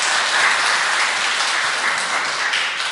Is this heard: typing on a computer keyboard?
no